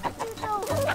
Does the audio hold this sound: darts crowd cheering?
no